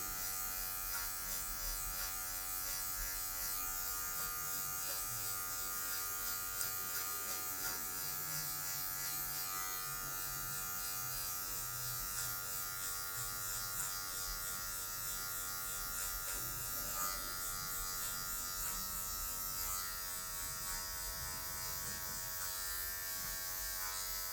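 An electric hair clipper buzzes steadily at close range while fading a short haircut on dark hair, its tone shifting slightly as the blade touches the hair, with no talking.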